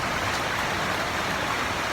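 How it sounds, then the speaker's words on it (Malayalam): Steady rain falls outside a house with a sit-out, a dense, even wash of noise with no breaks and no voices. "മഴ ഇപ്പോൾ കുറച്ച് കുറഞ്ഞിട്ടുണ്ടാ"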